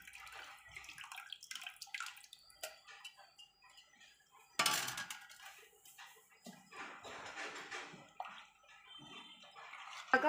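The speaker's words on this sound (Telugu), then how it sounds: "మనకు కావాలంటే కొంచెం వాటర్ వేసుకోవచ్చు ఫ్రెండ్స్." Water is splashed into a bowl of soaked tamarind pulp for a sour soup. Faint trickles build to a louder, brief pour partway through, followed by quieter wet sloshing.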